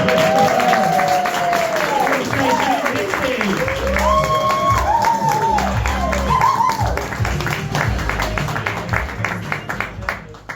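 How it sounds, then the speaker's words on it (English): A comedy-night crowd applauds someone coming to the stage, with sustained clapping alongside cheering and whooping voices, loud at first and gradually thinning out over about ten seconds. "Big round of applause."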